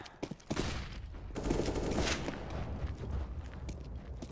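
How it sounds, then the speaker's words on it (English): Gunfire in the video game Counter-Strike: Global Offensive, rapid bursts of automatic shots and scattered single cracks layered in a busy firefight, moderately loud with distant echoing reports and footsteps. "Laying down some fire."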